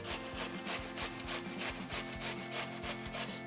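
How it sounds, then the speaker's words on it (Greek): Zucchini rubbed against a hand grater in quick, regular rasping strokes, about three per second, close and steady throughout. "θα συνεχίζω να τρίβω και το τρίτο κολοκύθι"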